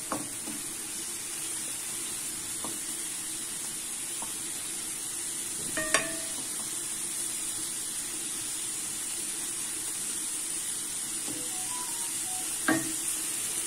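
Green beans, already boiled in salted water, are stirred and fried in a pan, making a steady close sizzle with a few scattered clinks of the utensil against the pan.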